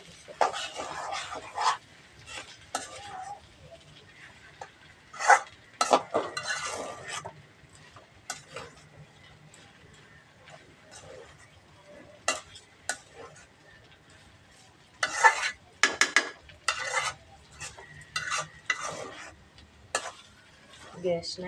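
Chickpeas stir-fry in a pan over a low gas flame, with repeated clicking spoon-and-pan scrapes in irregular bursts over a faint low sizzle, and a voice speaks at times.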